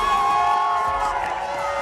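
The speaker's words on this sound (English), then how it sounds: "The crowd loving every second of this Super Pipe final." A large crowd cheers steadily at an X Games snowboard SuperPipe final in Aspen, a dense continuous roar with whoops rising over it, loud and sustained throughout.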